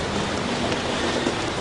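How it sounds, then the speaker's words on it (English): Rain falls steadily in the Congo rainforest, a dense, even hiss of drops on foliage with no breaks and no voices. "Gorillas seem to enjoy the rain."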